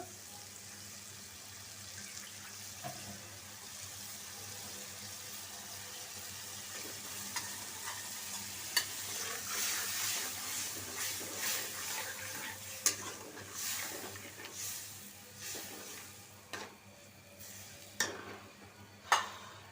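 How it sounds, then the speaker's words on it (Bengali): A ginger-garlic spice paste for a shrimp curry is being stir-fried, a soft, steady sizzle with scattered scraping stirs that grow busier and louder over time. "মশলাটা কষানো হোক মশলাটা কষানো হয়ে গেছে"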